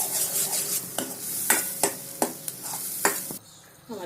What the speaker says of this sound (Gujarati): ટમેટા સોફ્ટ થઈ જાય અને મસાલો પાકી જાય ત્યાં સુધી થવા દઈશું